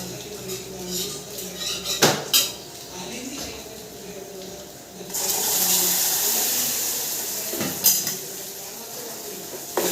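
Dal curry is tempered in a pan, with sharp metal clanks of utensils against the pan, a sizzling wash that swells midway, and a few more clanks later, while a person talks over the kitchen noise.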